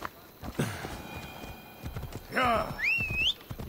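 A horse in Assassin's Creed Odyssey gallops with quick hoof clops and then gives a short, high neigh near the end, close and fairly loud, with faint game sounds between.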